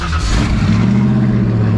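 A loud, throaty Ford Mustang Fox Body engine, a modified 347, revs hard through a loud exhaust and holds a deep, rumbling idle, continuous and close with no talking.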